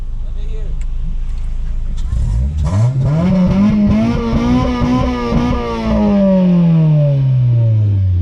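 A loud, close RSX sports car engine revs up sharply, climbing in pitch, holding, then winding slowly back down.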